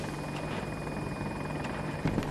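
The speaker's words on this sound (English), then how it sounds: "This is a chopper." An AH-64 Apache helicopter in a video game, its rotor drone steady and loud throughout, with faint clicks over it.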